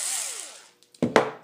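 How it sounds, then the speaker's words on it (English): An electric drill whirs at high pitch and winds down over about a second, followed by two sharp knocks close by. "Things you're going to need: an electric drill,"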